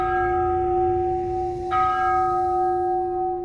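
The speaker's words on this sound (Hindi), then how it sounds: "12 बजे घंटी फिर से बजने लगी।" A bell rings with a steady, sustained tone, then is struck again partway through, its clear ringing overtones lingering over a low rumble.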